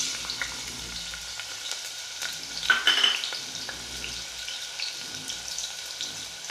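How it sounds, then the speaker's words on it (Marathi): Chopped onion fries in hot oil inside a pressure cooker on a gas stove, a soft steady sizzle with a brief louder crackle midway, faint and close, no talk. "आपण गॅसवरती कुकर ठेवले, त्यामध्ये 3 चम्मच तेल टाकलेले आहेत आणि त्यामध्ये आपल्याला टाकायचा आहे कांदा।"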